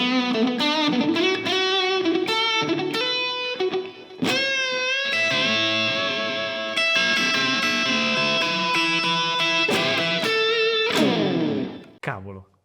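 An Enya Inspire guitar plays a distorted lead tone, a run of sustained, clearly separated notes and bends with crisp picking attacks, loud and close, ending in a brief fading chord.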